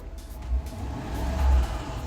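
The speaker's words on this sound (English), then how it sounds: "Now what we want to do is rev up the engine." A Mustang engine revs up with a low rumble, rising and surging twice over a couple of seconds, heard from close by.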